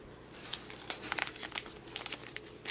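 Paper being folded in on itself and crumpled to shape a seed-starting pot from scrap: close, crisp crinkling and rustling bursts, uneven and continuous, with no talk over it.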